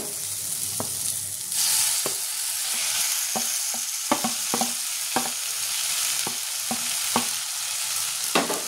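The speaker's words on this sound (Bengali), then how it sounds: "এবার আমি বেগুনটা দিয়ে দেবো" Eggplant frying in a pan with tomato and garlic for a Bengali bharta, a continuous close sizzle broken by repeated spoon clacks and scrapes as it is stirred, no voices.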